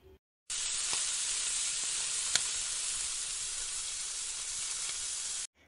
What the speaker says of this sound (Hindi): लो टू मीडियम फ्लेम पे हम इसे सात से आठ मिनट के लिए फ्राई कर लेंगे भून लेंगे